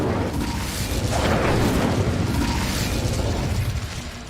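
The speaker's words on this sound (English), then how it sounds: "Incendio!" An Incendio fire spell in Hogwarts Legacy lights a brazier with a loud, rumbling burst of flame that swells and roars for several seconds, then slowly eases off, with no talking over it.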